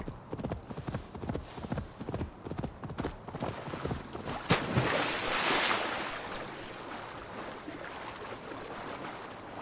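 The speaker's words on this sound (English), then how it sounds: "Vamos ter que cruzar o rio com o cavalo mesmo." A horse in Assassin's Creed Valhalla crosses a river, its hooves clopping in a quick rhythm, then giving way to a broad splashing rush of water in the middle before a steadier wash.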